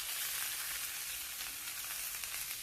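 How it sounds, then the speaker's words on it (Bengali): Rohu fish curry with cauliflower and potato simmers and fries in a pan, a dense, even hiss of sizzling with faint stirring underneath, close and continuous for a few seconds. "একটু করে সামান্য নেড়ে নেব।"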